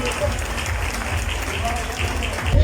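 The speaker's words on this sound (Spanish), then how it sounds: "Un aplauso para ellos, por favor." Audience applause at an artisan fashion runway show, steady clapping from a crowd throughout, swelling slightly louder near the end with a voice faintly mixed in.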